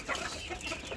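Farm chickens gathered at feeding give a short burst of soft, overlapping clucks, close and moderately quiet, lasting about a second.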